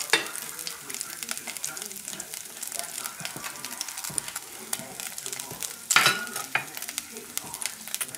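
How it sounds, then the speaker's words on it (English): Vegetables with minced shallots and saffron sweat in a pan over a lowered flame, giving a close, crackling sizzle with utensil clicks and stirring scrapes, one sharper clatter midway, and faint talk underneath. "We're going to sweat up the vegetables a little bit"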